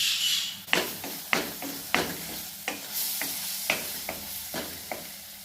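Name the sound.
sautéing mushrooms in a pan for fried rice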